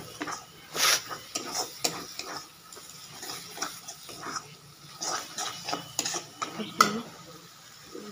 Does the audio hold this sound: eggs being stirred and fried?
yes